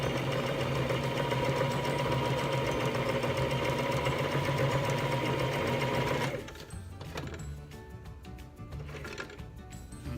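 Sewing machine quilting a long fabric piece, a loud close steady whir for about six seconds that then stops, leaving quieter handling and faint clicks.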